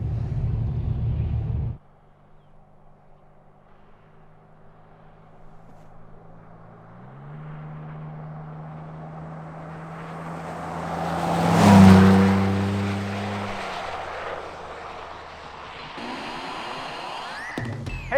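A Chevy Colorado with a GM Performance exhaust drones steadily while driving, the low exhaust tone rising to a loud, swelling rev midway and then settling back into a cruising hum.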